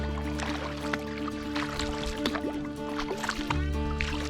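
A kayak paddle dipping into very shallow tidal water in a temperate rainforest, giving soft, close splashes and trickling drips over a steady low hum, with a few small gurgles.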